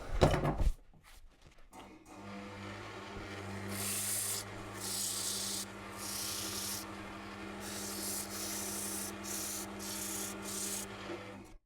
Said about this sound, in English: I'll just give that a sand and ready to go.